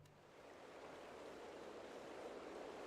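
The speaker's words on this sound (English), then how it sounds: "That sounds like flowing water." Steady rushing flow of water in Final Fantasy XIV, a continuous broadband wash that swells slightly and holds even throughout, with no voices over it.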